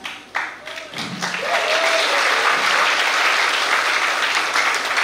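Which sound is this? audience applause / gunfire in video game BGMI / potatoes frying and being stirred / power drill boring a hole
audience applause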